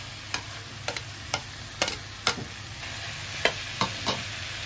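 Potatoes go into a sizzling pan of fried masala with softened tomatoes. A low steady fry hums beneath about nine sharp spoon taps and scrapes at irregular intervals.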